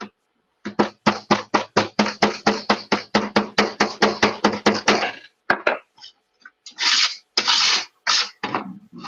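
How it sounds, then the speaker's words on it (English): A hammer pounds clay into a mold for sand casting jewellery: rapid, regular blows land about four per second for several seconds, then a few slower, irregular thumps and scrapes, all close by. "You can press it with your hammer."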